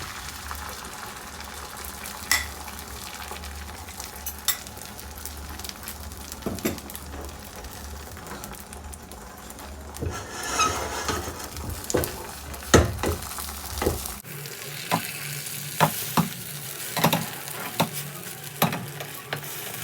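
An egg fries in a little vegetable oil over a medium flame, with a steady soft sizzle and scattered sharp spatters and utensil taps, close and with no talking.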